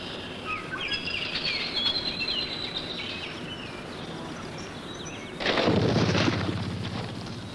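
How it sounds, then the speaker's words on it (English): Birds call in a spring landscape where ruffed grouse nest, with scattered high chirps and song through the first half, then a louder, denser burst of sound near the end over a steady outdoor background. "It's also the time that many birds begin their nesting, including Leopold's beloved ruffed grouse."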